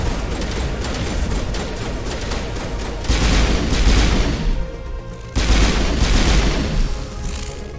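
A grenade launcher fires in Mass Effect Legendary Edition, loud close bursts of explosive blasts and crackling detonations in two heavy waves separated by a brief lull.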